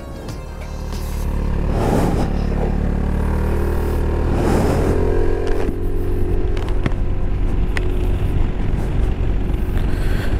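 WMOTO XDV 250i 250cc scooter, 2023 model, its engine and exhaust running steadily and loud up close, swelling as the throttle is blipped a couple of times.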